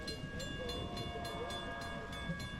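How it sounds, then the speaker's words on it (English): A train rumbles steadily nearby, with a low continuous roar and faint rhythmic clicks from the wheels. "Ere long the train came with loud rumbling din"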